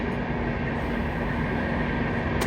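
Local trains pass near Kalyan, heard as a constant, fairly loud rail rumble with a faint steady tonal hum. No voices.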